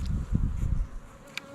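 Honey bees buzz around an open Layens or Langstroth hive during an inspection, a close, steady drone with a few louder passes, heard without talking.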